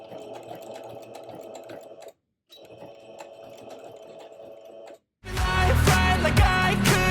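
A sewing machine fitted with a walking foot stitches thick Sherpa fabric in a steady, continuous whir. It pauses briefly twice, and after the second pause loud music takes over.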